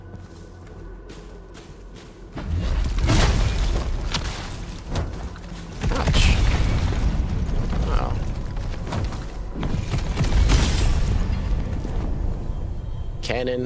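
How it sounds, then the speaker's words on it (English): In a soulslike video game, a cannon mounted on a crab's back fires and explodes in several heavy booming bursts with mechanical clanks between them, while a player reacts aloud. "Cannon mounted on the back of a crab with more unblockable attacks."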